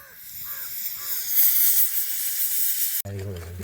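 A pressure cooker whistle hisses loudly with rushing steam for about three seconds, then cuts off abruptly as a voice begins. The first whistle, heard outdoors at a Lohri festival gathering with nomadic shepherds.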